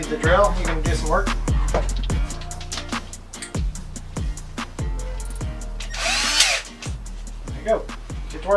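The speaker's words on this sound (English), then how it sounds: "You need the drill." An electric drill whirs in repeated short bursts, each spin-up rising and dropping off, close and fairly loud, with a stretch of harsher grinding near the end while a person talks between bursts, during work on DIY camper bed cushions.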